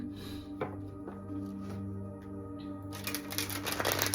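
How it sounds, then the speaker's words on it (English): Tarot cards being shuffled by hand, with soft riffling and tapping through the first part, then a denser burst of papery card sounds toward the end, close and fairly quiet. "so that you guys can see you know, that I'm shuffling"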